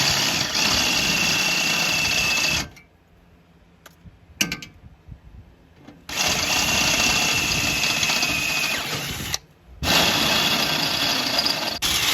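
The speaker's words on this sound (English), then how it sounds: "Let's try these sharp bits." A power drill fitted with a brand-new, sharp bit from a fresh kit whines loudly and close in long bursts, separated by short quiet pauses.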